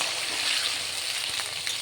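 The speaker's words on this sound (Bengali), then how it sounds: "বেগুনটা ভেজে নেব।" Eggplant frying in hot oil with a little salt, giving a continuous close sizzle with a few faint stirring touches and no talk.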